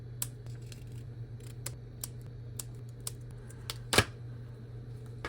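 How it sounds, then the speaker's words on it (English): Scissors snipping small pieces of paper for a junk journal: sparse, quick dry clicks and snips scattered over a low steady hum, with one sharper cut near the end, close and quiet. "what if we low-key like cut out all these little middle bits and bobs?"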